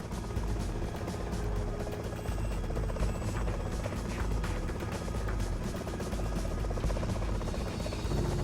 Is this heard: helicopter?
yes